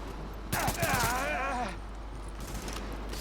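Gunfire from the video game The Division, a short burst of rapid shots under loud shouted talk, followed by steady background game noise.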